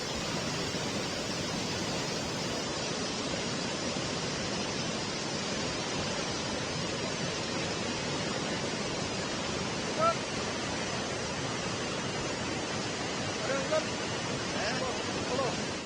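Floodwater rushing after a cloudburst in Dehradun roars as a dense, unbroken broadband wash throughout, loud and close, with no clear voices over it.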